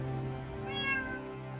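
A forest cat meows in one long, drawn-out call that rises and then falls, close and clear, with no other voices.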